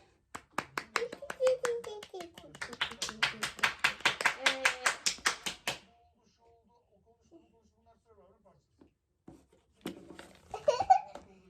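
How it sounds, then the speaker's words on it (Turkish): A small round of applause during a children's home reading lesson: about five seconds of steady, close hand claps mixed with a voice, then near silence and a brief burst of voices near the end. "Küçük alkış."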